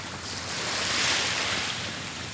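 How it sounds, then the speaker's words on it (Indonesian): Ocean surf on a clean white-sand beach at Tanjung Gelam (Sunset beach), Karimunjawa, washes in as a steady broad hiss that swells slightly midway, with some wind buffeting; no voices. "jadi ini di pantai Sunset"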